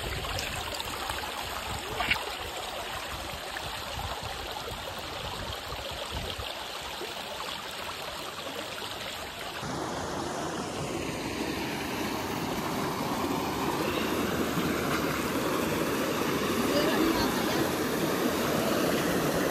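A mountain stream on a Hong Kong hiking trail rushes steadily over rocks, a continuous broadband wash of flowing water that grows slightly fuller and brighter midway through, heard alone with no voices.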